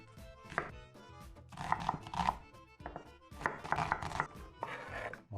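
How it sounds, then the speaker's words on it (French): Rapid knife chopping on a board as an onion is minced for ratatouille, uneven bursts of close, crisp taps under quiet background music, with no talking. "j'émince mon oignon"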